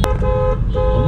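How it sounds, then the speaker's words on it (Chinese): A car horn sounds on arrival at the bride's ancestral home during a Chinese wedding in Malaysia, a loud close sustained toot with a brief break in the middle. "就开始吹喇叭了，要我们来了"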